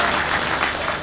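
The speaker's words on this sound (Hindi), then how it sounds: "बार ताली बजाकर इजाजत दे दीजिए" Audience clapping at a mushaira poetry recital on a cultural stage, a dense, loud burst of many hands applauding together, close and continuous.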